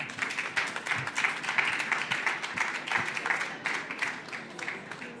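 Applause at a regional conference on reindustrialisation and decarbonisation, a moderate room of people clapping with distinct individual claps audible in the mix, steady and fairly close throughout.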